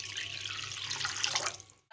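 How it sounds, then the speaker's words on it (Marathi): Water poured from a pot into a cooking vessel while making Schezwan noodles, a steady splashing stream lasting nearly two seconds before stopping abruptly. "आता आपण पाणी 1 तांब्या ओतूया"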